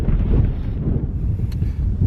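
Strong wind buffeting the microphone on an open, flat moorland walk toward Blakey Ridge, a continuous low rumbling roar with gusty fluctuations throughout.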